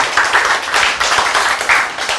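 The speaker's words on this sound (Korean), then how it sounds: "박수!" Congregation at a church sermon claps in a short burst of loud, close rhythmic claps, swelling in pulses roughly every half second.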